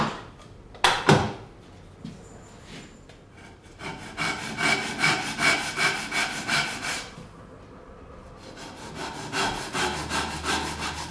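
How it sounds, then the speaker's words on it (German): Hand saw cutting a slot in a wooden workpiece for a Japanese double dovetail tenon joint, with close rhythmic push-pull strokes in two bursts after a couple of sharp knocks as the piece is repositioned. "Um nicht über den Grund des Schlitzes hinaus einzusägen, wird das Werkstück mehrfach gewendet."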